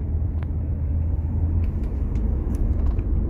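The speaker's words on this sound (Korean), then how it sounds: "또 한번 밟아볼게요" A car cruising at about 40 to 50 km/h with the brakes applied, heard from inside as a steady low road and engine rumble with a few faint clicks and no sharp brake squeal.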